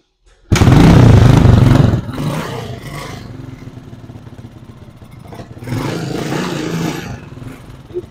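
A Honda XL 125 motorcycle engine fires up with a loud, close revving burst, then settles into a steady idle before revving up again briefly and dropping back.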